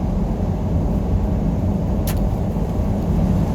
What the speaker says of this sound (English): And then, engine brakes.